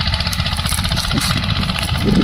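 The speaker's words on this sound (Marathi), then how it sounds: "भरपूर गवताचा भुगा करत आहे रोटर बॅक रोटरी साडे सोळा एच पी ट्रॅक्टर" A 16.5 HP tractor drives a rear rotary rotavator through grass, its engine chugging loud and close in a steady, rough rhythm with no talk.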